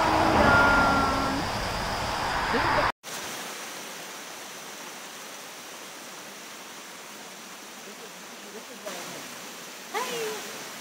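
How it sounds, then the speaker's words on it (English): A waterfall on a mountain in South Carolina rushes in a steady, broad hiss that runs unbroken for most of the stretch, after a few seconds of voices and wind up close at the start. "Look at the falls, the waterfalls coming down."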